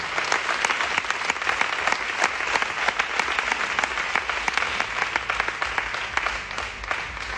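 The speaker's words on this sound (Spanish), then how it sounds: "Muchas gracias, un aplauso." Audience at a gala giving sustained, lively applause, dense overlapping claps filling the room at a steady level from start to finish.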